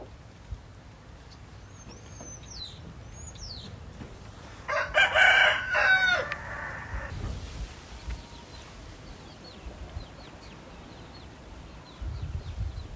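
A rooster crows once, loud and close, with a strained drawn-out call midway through, while faint bird chirps and quiet outdoor ambience fill the rest of the scene.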